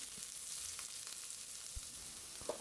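Mussels go into a pan of softened peppers already frying, with a steady close sizzle and a few soft stirring knocks and clinks.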